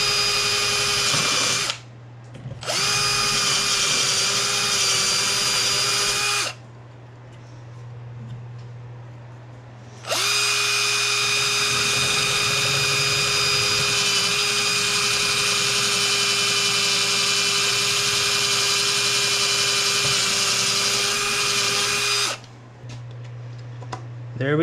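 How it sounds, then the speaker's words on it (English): An electric drill enlarges the bridge post holes in a guitar body in bursts: a few seconds of steady high whine, a pause, then a long continuous run, with a low hum underneath during the gaps. "So I'm gonna have to drill these out a little bit more."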